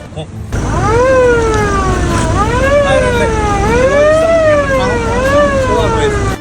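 A loud siren fitted to a Toyota Fortuner wails close by, its pitch sweeping up and down in repeated cycles for several seconds without a break.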